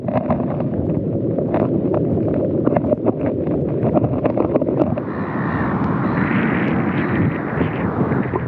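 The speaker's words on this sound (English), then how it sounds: "a bit of a southerly breeze blowing" A southerly breeze blows on the coast, steady loud wind rumble buffeting the microphone and swelling into a stronger gust near the end, with no talk.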